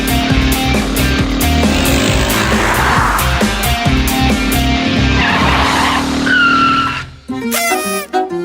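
Cartoon vans chase each other, tires squealing and skidding loudly over racing engines and dramatic music, with a sharp screech and abrupt stop near the end.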